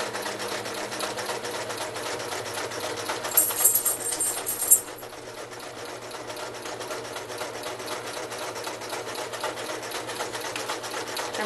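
A sewing machine stitches phone pillow fabric in a steady, close, continuous whir, with a brief louder burst partway through before settling back into an even hum.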